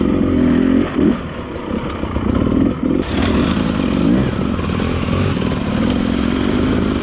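A 2020 Beta counterbalanced dirt bike engine runs loud and close, a steady mechanical drone with slight revving swells, while someone talks over it.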